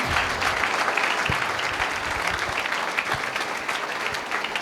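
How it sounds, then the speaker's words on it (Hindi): An audience at an Indian college workshop breaks into continuous applause, a dense, even roll of many clapping hands that lasts several seconds at a moderate, steady level. "एक बार जोरदार तालियां होनी चाहिए।"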